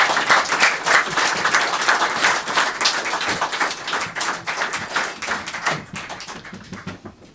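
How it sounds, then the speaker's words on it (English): A live audience at a tribute concert in a Montreal venue breaks into sustained, dense applause, loud and steady for several seconds before thinning out toward the end. "I don't think you clapped enough for that."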